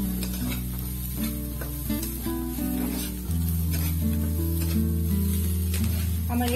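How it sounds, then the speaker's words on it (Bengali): Chopped carrot strips and onion sizzle lightly in a pan for upma, a steady close frying hiss under a bed of background music. "এবার আমি হালকা ভাবে এগুলোকে ভেজে নেব"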